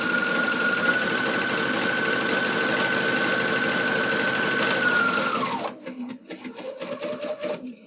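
A sewing machine stitches a dog collar bandanna in a steady, loud, fast whirring run that stops abruptly, followed by quieter handling and rustling of the fabric.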